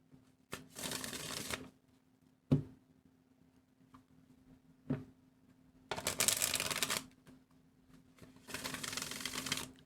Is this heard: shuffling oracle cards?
yes